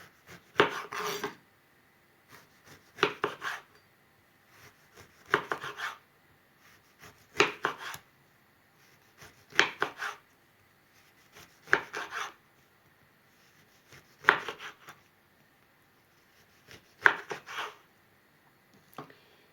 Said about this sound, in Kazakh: Енді апельсинді тураймыз